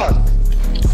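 A dog close by gives a couple of sharp, loud barks with whiny, yipping edges, spaced about a second apart, against busy game noise.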